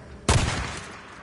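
A single sharp gunshot blast rings out in the Days Gone video game, followed by a short rumbling echo that fades over about a second. No one talks over it.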